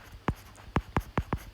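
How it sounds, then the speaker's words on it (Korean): Chalk or marker strokes on a board during a Korean history lesson: five short, crisp tapping scrapes, close and fairly loud, in an uneven rhythm with no talking. "좀 써볼게요."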